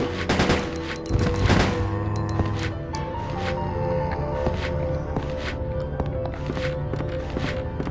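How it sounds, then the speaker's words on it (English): Handgun shots fired in the survival horror game Resident Evil Code Veronica, a rapid burst of loud cracks early on, then scattered quieter pops over steady game ambience and music. "I prefer handgun here because there's so many and they're so close"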